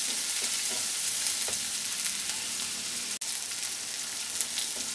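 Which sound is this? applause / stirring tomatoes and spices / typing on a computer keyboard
stirring tomatoes and spices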